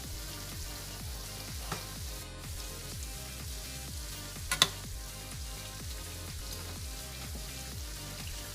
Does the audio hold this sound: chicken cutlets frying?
yes